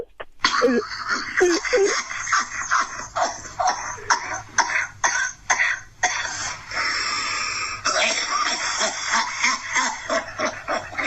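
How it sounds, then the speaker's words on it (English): Repeated harsh coughs break up between bursts of nose blowing, close and loud, in an irregular run of hacking and snorting. "Then he starts blowing his nose in the middle of coughing."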